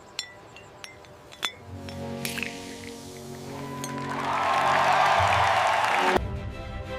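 Glasses clink once in a toast, a brief bright chink over a faint background, followed by a swelling fizzy hiss like a poured carbonated drink that cuts off abruptly.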